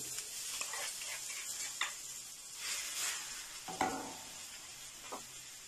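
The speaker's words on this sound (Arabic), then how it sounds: "انا بغيت المطيشه والبصله يتشحروا باش هذاك الماء اللي في المطيشه يتشرب" Chopped tomatoes and onions fry together in a pan as the base of a chermoula for a Moroccan tagine, a soft steady sizzle broken by quiet scrapes and clinks of a spoon stirring, close and faint, with no talking.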